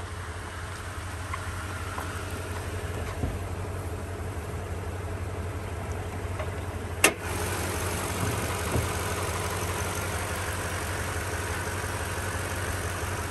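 A 5.7 liter V8 in a Toyota Tundra truck idles steadily under the open hood, a constant low rumble with a brief sharp click midway and no talking.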